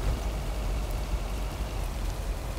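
Rain drums on the roof of a van in Lake, a dense, even patter heard from inside, steady and close with no voices over it.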